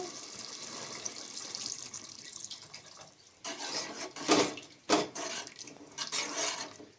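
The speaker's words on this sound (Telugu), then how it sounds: "ఇప్పుడు కొంచెం వాటర్ వేసుకోవాలి." Water pours into a pot of simmering mushroom curry, a soft, continuous splashing and gurgling that swells in a few louder surges along with faint clinks of a pan.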